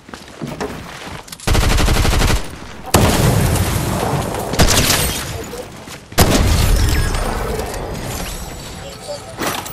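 Gunfire in a multiplayer shooter video game: loud bursts of rapid automatic fire and heavy booming shots, separated by short pauses, with excited players talking over the action.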